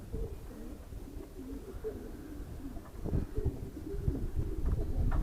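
Pigeons coo softly in low, repeated murmurs, fairly near, with some rustling and light wind noise around them.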